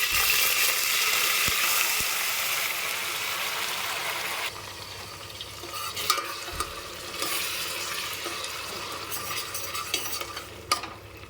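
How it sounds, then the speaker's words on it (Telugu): Onion paste frying in oil for a chicken curry, a broad steady sizzle that lasts throughout, with occasional scrapes and soft clinks of stirring. The crackle eases slightly partway through. "ఇవి రెండు ఉల్లిపాయలు అన్నమాట మెత్తగా ఇలా పేస్ట్ పట్టుకోవాలి ఇప్పుడు ఇవి ఇందులో వేసి ఫ్రై చేస్తాం"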